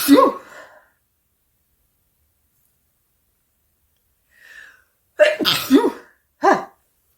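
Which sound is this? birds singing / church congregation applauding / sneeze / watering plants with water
sneeze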